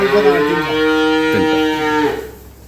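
A dairy cow on a farm gives a loud, sustained moo of about two seconds, close by, fading out at the end.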